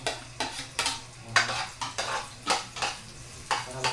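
A long-handled spatula scrapes and stirs ingredients being sautéed in a pan, with repeated rhythmic clanks against the metal roughly every half second, close and moderately loud, over a faint low hum.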